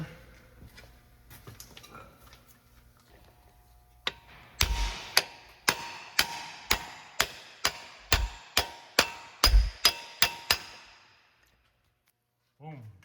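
About a dozen evenly spaced metallic hammer taps ring out close by, driving an output shaft seal into a Ram 1500 with a cup tool at a steady rhythm, then stop.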